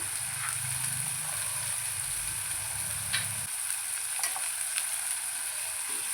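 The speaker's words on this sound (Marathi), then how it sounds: "हे सगळं पूर्ण टोमॅटो सॉफ्ट होईपर्यंत भाजून घ्यायचं आपल्याला" Onion and tomato with curry leaves roast in a pan for a sprouted moth bean usal, giving a steady, close frying hiss with occasional soft ticks and crackles throughout and no talking.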